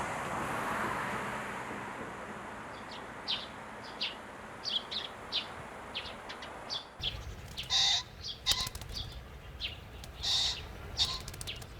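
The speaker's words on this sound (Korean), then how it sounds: "아침, 창원초는 새소리와 도시의 소음을 가릅니다." Birds call and chirp in short repeated bursts on a morning by Changwon Stream, an urban stream, over a low hum of city noise. The calls grow busier and louder after a sudden shift in the background.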